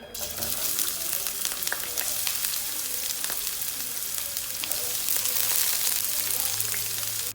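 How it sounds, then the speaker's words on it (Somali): Chopped onions fry in hot oil in a pan, giving a dense, continuous close sizzle with scattered crackles and occasional stirring, with no talk. "basashaan ku soo darsaneynaa saliida way noo karkartay"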